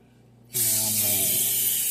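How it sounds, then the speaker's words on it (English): After a brief quiet moment, a can of cooking spray lets off a loud, steady hiss onto a sheet of aluminum foil. The spray runs close and continuous for well over a second, with no talking. "I got some cooking spray and a piece of foil."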